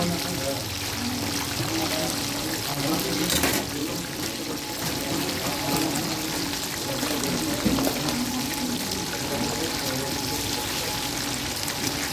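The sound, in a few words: water left running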